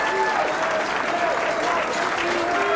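A crowd at the 1997 PBA Brunswick Bayer TPC bowling championship match applauds loudly and steadily throughout, a dense wash of clapping with scattered cheers mixed in.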